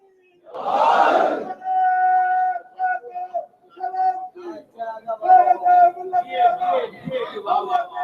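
Mourners at a Muharram majlis shout slogans together, a loud collective cry followed by rhythmic chanted phrases from the crowd, rising and falling in bursts.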